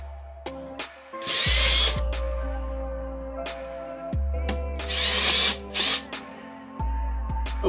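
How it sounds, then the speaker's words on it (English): Power drill boring four holes into a golf cart during an overhead radio console install on a Yamaha Drive, heard as two loud, close bursts of drilling separated by a lower steady motor whine and short pauses. "Now to drill four holes."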